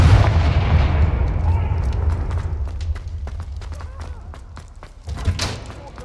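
Heavy fiery blast of the Confringo spell in the video game Hogwarts Legacy, a loud booming roar that decays over a few seconds, followed by scattered sharp impacts and a second burst near the end.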